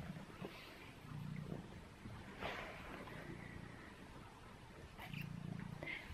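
A pet cat purrs at close range indoors, a soft low rumbling that comes in steady bursts, with brief rustles between.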